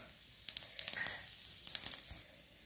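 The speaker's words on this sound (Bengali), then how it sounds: "তেল গরম হয়ে গেছে, এবার এই যে জিরে আর গরম মশলা এটা ফোড়ন দিয়ে দেবো" Cumin and garam masala tempering in hot mustard oil in a West Bengal village kitchen: faint, crisp crackles and pops spatter for about two seconds over a soft sizzle, then settle.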